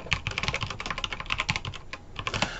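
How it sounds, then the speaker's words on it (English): Rapid clicking of keys on a computer keyboard as a short message is typed, steady and close with brief pauses, no voices. "I can type a quick message."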